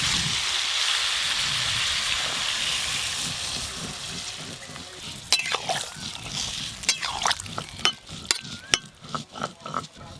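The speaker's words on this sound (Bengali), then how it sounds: "ঝিঙ্গেটা অল্প করে নেড়ে নিয়েছি, এবার জল দিয়ে দেবো" Water is poured into a pan of stir-fried ridge gourd, first as a steady rush and then as a faint sizzle, followed by scattered splashes and gurgles as the pouring tapers off.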